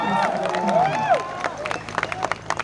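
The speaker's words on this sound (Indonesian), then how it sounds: "Tepuk tangan yang paling keras." Loud crowd applause at a labor demonstration, brisk clapping with cheers and shouting voices, sustained then breaking into scattered sharp claps.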